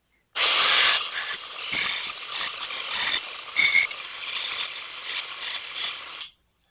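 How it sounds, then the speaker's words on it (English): A grinder works a taper onto the tang of a Loveless-style knife, giving harsh, high, raspy bursts of metal grinding that start and stop in uneven pulses, close and loud, with no talking. "We're going to grind this at a taper this way, and then we'll flip it, and we'll grind it at a taper this way so that our whole tang tapers back."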